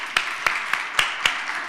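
Applause from an audience at a design conference, a handful of distinct claps at an even pace that sound sparse and fairly faint rather than a full ovation.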